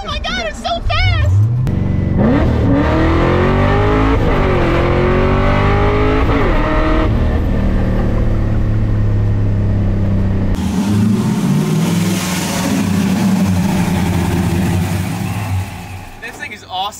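A supercharged Ford Mustang roars hard as it accelerates, its pitch climbing through several gear changes and then settling into a loud steady drone. The engine stays close and dominant throughout.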